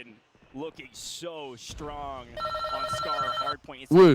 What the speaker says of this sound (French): C'est le téléphone dans Skyline ou quoi qui s'appelle là?